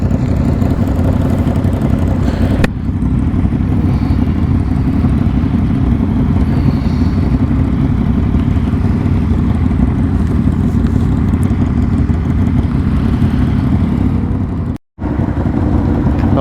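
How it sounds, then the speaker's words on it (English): Loud 400cc motorcycle engine running steadily at a nighttime car meet, a constant close rumbling drone that fills the whole stretch with no talk over it. "Oh, his bike is fucking loud, even though it's a 400. It's loud."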